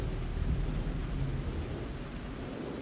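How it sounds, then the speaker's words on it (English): Heavy rain pours down with deep rolling thunder in the Alan Wake 2 video game, a dense continuous downpour under a low rumble throughout. "The rain never stopped falling."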